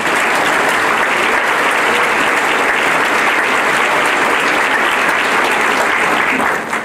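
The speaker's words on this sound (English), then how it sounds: "So let's give them a round of applause" Loud, sustained applause from a large audience at a college convocation welcoming new staff, a dense continuous wash of many hands clapping for several seconds before stopping abruptly.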